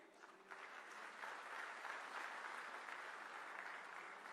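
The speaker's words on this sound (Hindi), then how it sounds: "जोर से ताली बजाइए कि आप लखनऊ में हैं" Audience applause fills a workshop hall in Lucknow on the development of Indian livestock breeds, a steady broadband clapping that swells after a half-second start and holds evenly throughout without speech.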